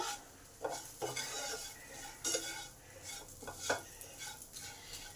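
A spice mix is stirred into taro (kochu) pieces in a pan for a vegetarian masala dish: close, quiet scraping strokes with soft sizzling and a few clinks of the spoon, with no talking.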